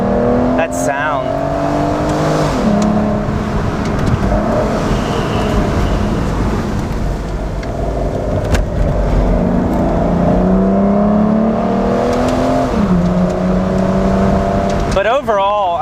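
Engine of a 2006 Aston Martin DB9 Volante revving on the move, a steady loud drone with rising and falling pitch sweeps as it accelerates and shifts, heard close up throughout.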